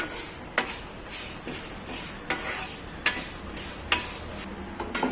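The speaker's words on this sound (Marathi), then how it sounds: "तेल तूप काही न टाकता नुसती आपण तिला भाजून घ्यायची मंद आचेवरती चांगली लालसर झाली पाहिजे" Moong dal dry-roasting in a hot pan with no oil or ghee over low heat, a utensil scraping and knocking against the pan in a steady stirring rhythm with sharp clinks about every second, close and alone.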